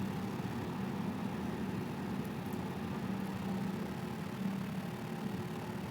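FlyByWire A32NX airliner engines run steadily in a flight simulator after both have been started, a constant mid-low hum and whine at moderate level with no talk.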